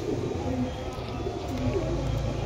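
Pigeons coo softly in a loft, with a Sylheti Kamagar female among them; low repeated cooing phrases sit over a steady background hum.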